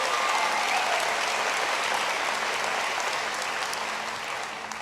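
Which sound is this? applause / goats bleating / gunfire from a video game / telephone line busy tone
applause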